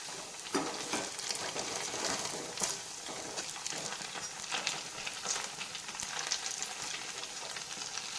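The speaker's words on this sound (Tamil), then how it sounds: "எண்ணெயில் போட்டு பொறிச்சு எடுப்போம்" Pieces of leftover idli fry in hot oil as an evening snack, giving a steady, close sizzle with scattered pops and crackles throughout.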